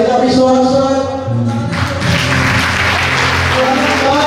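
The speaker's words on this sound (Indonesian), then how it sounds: "Mari kita beri sorak-sorak" A congregation at a church worship service clapping and cheering, loud sustained applause beneath held sung or shouted tones, filling the room continuously.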